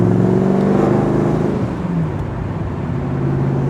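Loud, steady rumble of a 1986 AC Cobra Mk IV V8 with underside exhaust heard from inside while cruising, the engine note easing slightly mid-way then holding.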